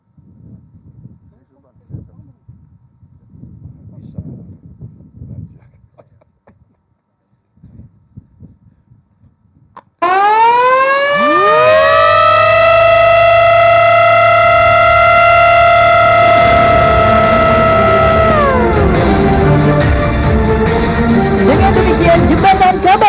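A civil defense-style siren wails at a presidential ceremony opening a bridge, flyover and underpasses, starting abruptly after quiet murmuring, rising to a loud sustained tone, then sliding down near the end over crowd noise.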